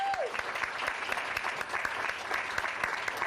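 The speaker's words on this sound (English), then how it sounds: "Give her a round of applause." Audience applause at a sales network keynote, steady dense clapping from a large crowd filling the room throughout, with no voices over it.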